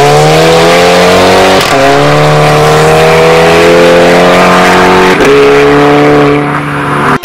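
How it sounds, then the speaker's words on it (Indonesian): A VW Golf MK6 TSI engine roars loudly and steadily, its pitch climbing, then dropping abruptly twice as the gearbox shifts up, each change marked by a quick break. "karena suara pas lagi ngoper giginya keren banget gitu"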